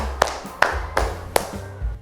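A classroom of students claps in counted rounds: four sharp, evenly spaced claps ring out close and loud, with a voice speaking low in the background.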